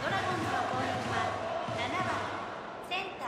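A large video-game stadium crowd at Mazda Stadium roars and cheers continuously in the ninth inning of a Hiroshima Carp vs Chunichi baseball game, the swell easing slightly toward the end, with a commentator talking over it.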